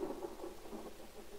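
Steady rain with low rolling thunder in the survival game The Forest, a soft continuous wash of rainfall and a muffled rumble, faint and unbroken throughout.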